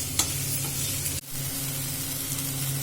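Chopped ridge gourd sizzles steadily in a hot pan while being stirred, with a continuous frying hiss and a brief pause in the middle as the spoon moves, no voices present.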